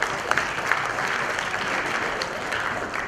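An audience gives a presenter a short burst of clapping at a tech event, a steady, moderately loud patter lasting about three seconds.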